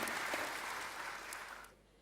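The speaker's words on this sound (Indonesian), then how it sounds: "Berikan tepuk tangan dong." Congregation applause at an online church worship service, a steady wash of clapping held for under two seconds, then cutting off abruptly into quiet.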